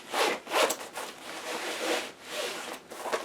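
A zipper on a bib pocket of a garment is worked, giving several close, rasping pulls in quick succession with short pauses between strokes.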